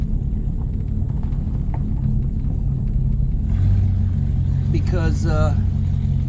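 A 1964 Dodge Polara 500 with a big block engine driving on the road, a loud, constant low rumble running throughout, with someone talking over it.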